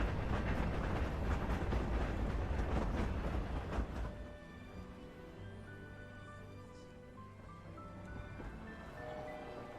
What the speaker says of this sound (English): Oh look! The train's coming in.